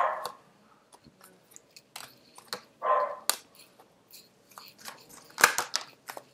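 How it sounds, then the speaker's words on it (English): A dog barks in short bursts in the background of an indoor room, with several brief sharp barks scattered across the stretch, moderately faint, and no talk over them. "forgive the dog barking in the background"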